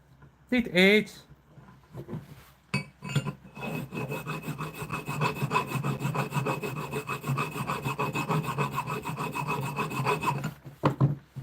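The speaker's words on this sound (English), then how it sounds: "now what I'm doing here is I'm filing it up to a nice neat edge" A hand file rasps a stainless steel part down to a neat edge in a run of rhythmic, close scraping strokes, with a few sharp knocks at the start and end.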